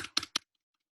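A few quick, close clicks on a computer keyboard, about three sharp taps in under half a second, then silence, as when backspacing text on a web page.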